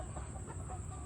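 Chickens clucking in a coop holding large water tanks, a brief dense burst of overlapping clucks and fowl murmurs against steady background noise, fairly close and continuous.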